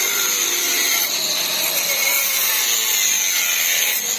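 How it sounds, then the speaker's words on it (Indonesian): An angle grinder works steel on a brake part for a Land Rover Defender big brake kit, giving a steady, loud high-pitched whine that holds without a break throughout. "di sini kita lihat ada Pak Lili yang lagi menggerinda"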